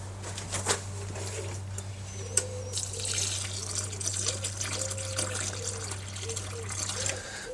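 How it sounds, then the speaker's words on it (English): Water trickles and splashes as it is poured into a planting hole for cucumbers in a greenhouse, a soft uneven dribble under a low steady hum. "So again, we just fill that up with some water so that there's something for the roots to go down into."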